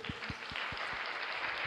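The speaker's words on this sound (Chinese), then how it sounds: "掌声送给千玺。" An audience at a Master Kong green tea launch event claps and applauds, steady and fairly faint, with the sound carrying as a diffuse wash in a large hall.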